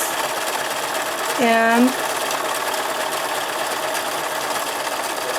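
A sewing machine doing free-motion embroidery stitching runs in one short whirring burst of about half a second, close by, while a person talks over the steady room noise.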